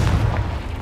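A Confringo explosive spell in the Hogwarts Legacy video game lands as a short, heavy, low boom that rumbles out within a second.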